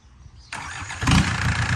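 A car engine cranks and catches, then settles into a steady, fairly loud idle with a rough rumble, close by and with no talking.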